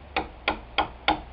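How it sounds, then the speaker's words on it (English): A hammer gently taps a sharp chisel into wood, making five light, evenly spaced knocks close by with no talking. "I tap very gently with the side of the hammer."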